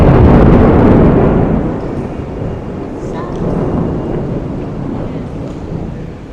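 A loud thunderclap rolls and rumbles beside a Japanese train station during heavy rain, booming close and then fading into a steady rain hiss with a second lighter rumble.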